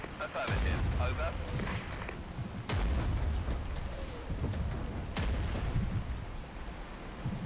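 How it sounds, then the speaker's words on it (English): Heavy artillery fire in the war game Regiments: three booming impacts spaced a few seconds apart, each a sharp crack rolling into a long low rumble over a steady noisy background. "That artillery is big."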